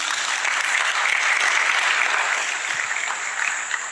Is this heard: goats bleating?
no